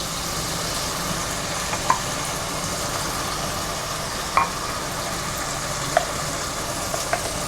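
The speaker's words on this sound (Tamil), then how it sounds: "அரைச்சி வச்சுருக்கேன் இஞ்சி பூண்டு பேஸ்ட்டை போட்டுக்கலாங்க" Ginger garlic paste frying in a pan for Chettinad goat trotter soup, a steady soft sizzle with a few light clinks of a spoon against the pan, close and without talk.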